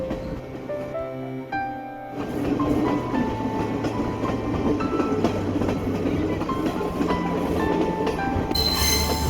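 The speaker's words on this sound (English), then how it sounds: "This is Denuwara Manike train going towards Ella en route to Colombo" The Denuwara Manike passenger train rumbles across the Nine Arches Bridge in Ella, Sri Lanka, with rhythmic clatter of wheels on the rails and some metallic squealing, loud and continuous, no voices.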